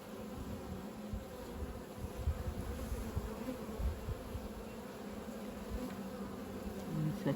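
Honeybees in an apiary hive during autumn feeding and winter preparation, a dense continuous buzzing swarm close by, low and steady with small swells, with no talk.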